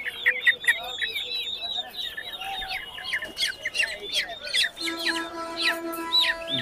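At a poultry and duck market in Tongi, Bangladesh, many fancy breed chickens such as Brahma and Silkie chirp, cluck and peep in dense overlapping calls close by, with people talking among them.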